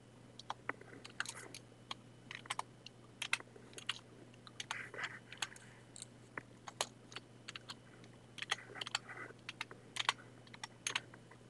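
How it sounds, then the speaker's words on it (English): Quiet, irregular clicking of keys on a computer keyboard while editing in Microsoft Word, short taps and brief flurries spread across the clip with a faint steady hum underneath. "I'm using my arrow keys on my keyboard."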